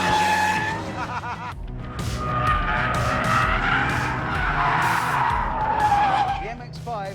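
An Abarth 124 Spider slides through a corner with a limited slip diff, its tires squealing loudly and continuously over the engine note while someone talks over it.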